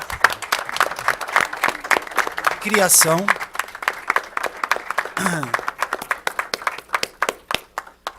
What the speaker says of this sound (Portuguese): nós vamos saudar aqui, numa salva de palmas, as mulheres